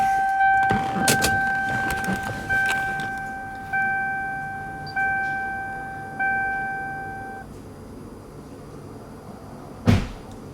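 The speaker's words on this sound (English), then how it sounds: "And then we turn the ignition on." A Toyota Supra MK4 with a 2JZ-GTE swap has its ignition switched on: a few clicks, then a series of repeating electronic chime tones with short pauses between them. A single sharp knock follows at the end, in a quiet car interior.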